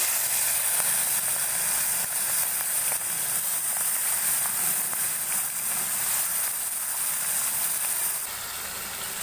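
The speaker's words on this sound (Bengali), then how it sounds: "কড়াইতে চিংড়ি মাছ দিয়ে দিচ্ছি।" Medium-sized prawns coated in salt and turmeric fry in hot mustard oil in a wok, making a dense, continuous close sizzle that eases slightly near the end.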